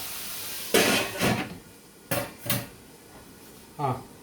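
A metal lid clanks onto a cooking pot while Karnataka bisibele bath is being made, with several sharp knocks and rattles spaced a second or so apart, close by and fairly quiet.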